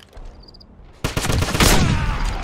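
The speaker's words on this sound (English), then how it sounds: "Give me suppressing fire!" Gunfire in the Wolfenstein video game: after a quiet second, a sudden loud burst of rapid automatic fire erupts and keeps rattling steadily to the end.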